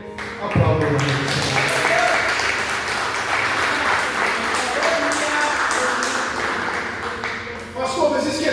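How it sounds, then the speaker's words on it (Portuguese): A church congregation applauds in a dense, sustained wash of clapping that swells and stays steady, with voices and a speaker talking over it. "E se você crer, aplauda o Senhor."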